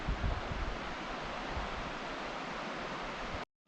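A creek flows steadily beneath a bridge in the Hoh River rain forest of Olympic National Park, giving a close, continuous broadband rush of water without pause until a brief dropout near the end.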